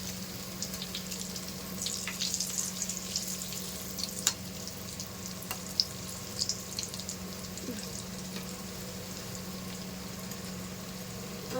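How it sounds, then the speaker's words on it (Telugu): Urad dal vadas frying in oil in a pan over medium heat, a continuous soft bubbling sizzle with occasional small pops and ticks, close and fairly quiet, with no talking. "హైలో కాకుండా సిమ్లో కాకుండా మీడియంలో పెట్టుకొని వేయించుకోండి"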